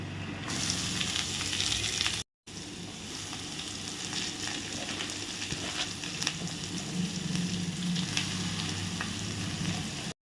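Loud, steady sizzling of chopped cabbage frying in oil in a pan, with a brief cut-out near the start and occasional stirring scrapes, no talking.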